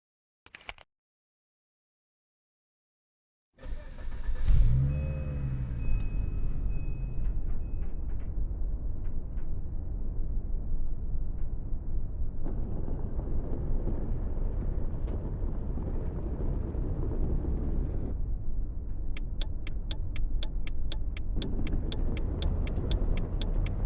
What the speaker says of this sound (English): Start your vehicle and take a right out of this parking lot.